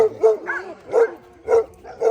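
Alaskan husky sled dogs, trained for the Iditarod, bark and yip close by in a short repeated series of about four sharp, loud calls spaced roughly half a second apart.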